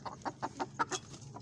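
Hen clucking in a coop, a close run of about eight quick soft clucks in an even rhythm over a quiet background.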